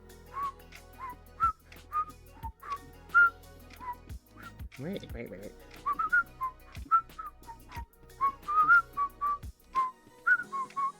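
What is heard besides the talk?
person whistling a tune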